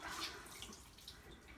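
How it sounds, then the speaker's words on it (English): Water from a wet cloth being wrung out, a steady close splashing and trickling that runs unbroken and fairly quiet, with no voices. "wring all that water out."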